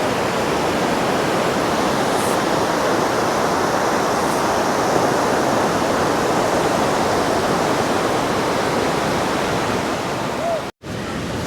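Ocean waves break on Kuta Beach, a popular surfing beach in Bali, on a morning with small surf. They make a continuous, loud, hissing roar that stays even and close with no voices, dropping out only for an instant near the end.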